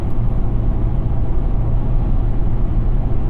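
A 2021 Chevrolet Colorado ZR2 pulls a trailer down the highway, giving a steady, loud low engine drone and road rumble from inside the cab with no break in the noise.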